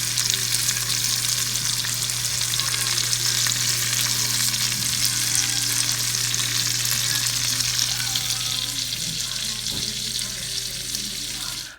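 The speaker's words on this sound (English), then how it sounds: "we're gonna go ahead and put the onions here" Onions sizzle steadily in a hot pan, a constant close frying hiss with faint stirring and clatter, heard alone without voices.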